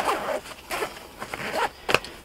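A zipper on a 5.11 RUSH backpack is pulled open in several quick, scratchy runs close by, with small rustles and handling noises in between.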